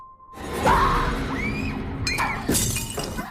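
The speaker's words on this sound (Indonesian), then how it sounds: "membuat vas bunga kesayangan neneknya jatuh dan pecah" A grandmother's beloved flower vase crashes to the floor and shatters in a house, a sudden loud burst of breaking glass with scattering shards, preceded by a tone and followed by fading rattle.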